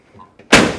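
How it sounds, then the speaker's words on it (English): A 1970 Dodge Charger's car door shuts with a solid thump, preceded by faint handling noises, then a brief fading resonance. "Door shut nice."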